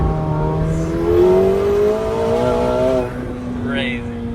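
A McLaren 750S with a twin-turbo 4.0-litre V8 under way, engine tone rising and dropping through quick seamless gear changes, steady and prominent with a faint voice underneath.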